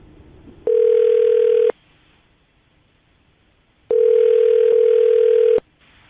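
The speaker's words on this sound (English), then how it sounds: "I'm going to dial the phone number" A telephone line gives two long, loud, steady tone bursts separated by a short gap of quiet, heard close and alone with no talking.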